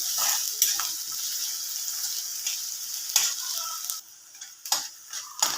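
Onions sautéing in a pan until golden for a spicy Marathi kurdai bhaji, a steady soft sizzle with repeated sharp scrapes and taps of a stirring spoon, close and fairly quiet, with no talking.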